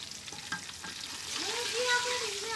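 Whole cardamom and cinnamon hit hot oil in a pot for biryani, producing a close frying sizzle that swells midway, with faint clinks and a brief tonal squeak.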